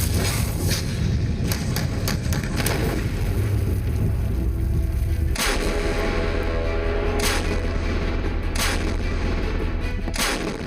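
An upgraded M46 field gun of 155 mm calibre fires outdoors. Deep booms roll and rumble over a steady background, with a few sharp reports spread across the stretch.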